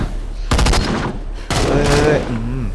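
Gunfire from the Into the Dead 2 zombie shooter, with an M1919 machine gun and Jäger rifle in use: two loud bursts of rapid shots, with tonal game sounds and music lingering between and after them.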